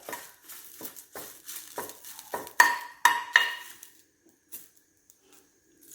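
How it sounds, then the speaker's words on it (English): Curry leaves being stirred and dry-roasted over a slow flame for sambar powder: close, crisp scraping strokes of a spatula in the pan, a few louder metallic clinks in the middle, then fading to near silence. "Now curry leaves, you have to roast it on slow flame till all the curry leaves become crisp"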